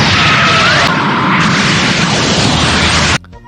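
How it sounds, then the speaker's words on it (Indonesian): A Super Kamehameha energy blast from the Dragon Ball anime erupts in a loud, sustained roaring explosion with a rising whoosh, holding at full intensity for about three seconds before cutting off abruptly. "Goku membuat rencana lain untuk mengagetkan 17 dengan Super Kamehameha 10 kali lipat."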